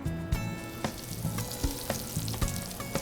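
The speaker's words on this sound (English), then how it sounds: "So we're ready to drop in our mushroom cap." A portobello mushroom cap frying in very hot oil on an induction burner, a steady dense sizzle with periodic crackling pops and light spatter, close and loud with no talk.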